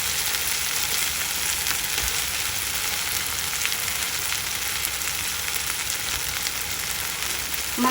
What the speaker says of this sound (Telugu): వంకాయ సాఫ్ట్గా అయ్యే వరకు వేయించుకోవాలి.